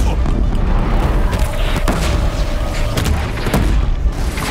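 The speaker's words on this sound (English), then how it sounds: "blast bombs to finish it off" Blast bombs going off in the video game Horizon Zero Dawn, with deep booms over a constant loud rumble of game sound and a sharp burst near the middle.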